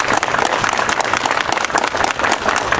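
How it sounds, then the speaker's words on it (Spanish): Crowd applause for the musicians at a Santa Cecilia celebration, loud continuous clapping from many hands with steady dense texture throughout. "hay que darle un fuerte aplauso a todos los músicos"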